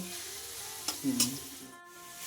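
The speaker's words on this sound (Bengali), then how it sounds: "আর এইদিকে আলু পেঁয়াজ এখন ভাজা চলছে" Potatoes and onions frying in a pan, giving a moderate sizzle with a few louder scraping or stirring bursts near the middle.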